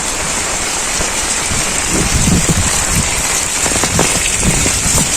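A thick, roaring downpour with heavy drops splashing close by, steady and loud throughout, no voices.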